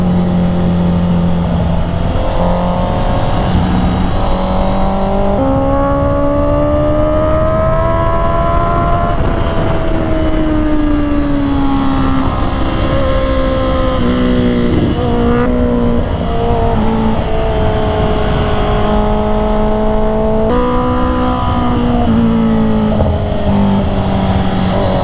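A 2024 Honda CB650R E-Clutch motorcycle engine drones loudly and continuously while riding, its pitch climbing and falling as the rider moves through the gears.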